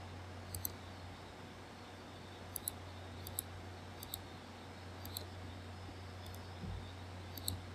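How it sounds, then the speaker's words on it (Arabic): A computer mouse clicks sharply, about a dozen separate clicks spaced irregularly over a quiet background hum, close by and fairly faint. "بعد ما تحدد تدوس رايت كليك"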